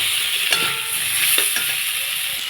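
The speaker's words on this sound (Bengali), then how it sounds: "এখন দিয়ে দেবো কেটে রাখা মূলো আর আলু। একটু কষিয়ে নেব ভালো করে।" Radish and potato stir-fried in a pan, with a loud, dense hiss of hot oil and a few clattering stirs of the spoon through the vegetables.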